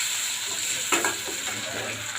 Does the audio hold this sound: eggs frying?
yes